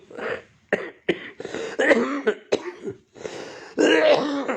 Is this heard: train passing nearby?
no